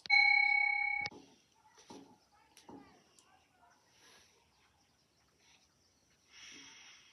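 A single bell rung to begin a breathing exercise in a school classroom, a clear bright ring lasting about a second, then soft breaths and small sounds in near silence.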